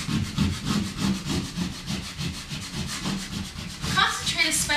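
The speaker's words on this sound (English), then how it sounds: "Now use your burnishing tool to push each letter into the wall." A burnishing tool is rubbed firmly over vinyl lettering on a wall, giving a steady, rhythmic scraping and rubbing close by, repeated strokes with no talk.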